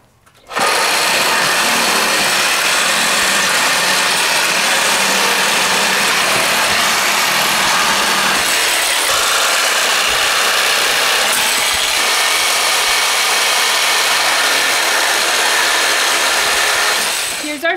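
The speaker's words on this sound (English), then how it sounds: "you'll just start sawzalling right behind the slats and cutting those nails" A reciprocating saw cuts through pallet nails behind wooden slats, a loud, continuous buzzing rasp close by that runs for most of the stretch with slight shifts in pitch.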